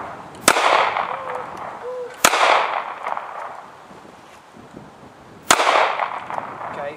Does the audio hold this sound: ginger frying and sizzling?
no